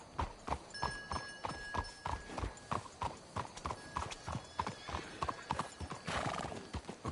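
Horse hooves clip-clopping in Red Dead Redemption 2, a steady rhythmic trot of sharp hoof strikes with a horse whinny and faint game ambience beneath.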